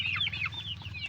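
Chickens clucking close by, a run of short chirpy calls over a low steady hum.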